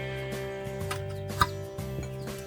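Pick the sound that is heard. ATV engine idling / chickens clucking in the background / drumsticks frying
chickens clucking in the background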